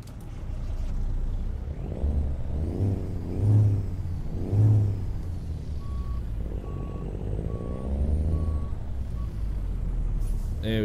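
A Kenworth W900A truck with an N14 engine in American Truck Simulator: a deep diesel idle and revving swells, an air brake hiss, and a steady repeating reversing beep near the middle, all close and loud.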